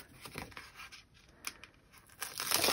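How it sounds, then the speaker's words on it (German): A thin protective backing film is peeled off adhesive paper with a soft, drawn-out tearing and crinkling, growing louder toward the end. "Jetzt ziehen wir uns hier einmal die Schutzfolie ab."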